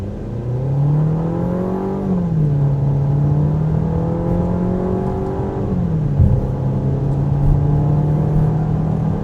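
A 2025 Volkswagen Tiguan SEL R-Line in sport mode pulls away hard, its engine climbing steadily in pitch, dropping at a gear change around two seconds, then rising again before a second shift, loud and continuous from the cabin.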